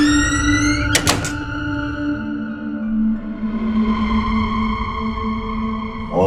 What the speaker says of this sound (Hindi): वो ये सुनते ही दरवाजा बंद कर देता है